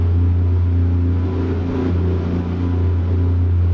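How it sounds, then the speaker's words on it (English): A Cummins ISM 500 truck engine in American Truck Simulator drones with a steady, loud low rumble, holding an even idle-like tone throughout without speech. "I like the way the engine sounds in this truck."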